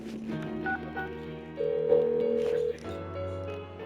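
Phone dialing tones from the video game Persona 4 Golden, a sequence of short electronic beeps followed by a longer held tone and then a lower sustained tone, clear and moderately loud.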